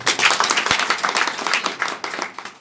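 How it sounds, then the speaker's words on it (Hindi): An audience at a seminar on RCM claps together in a dense, loud, steady burst lasting under three seconds, with no talking over it. "एक बार ताली बजाइए"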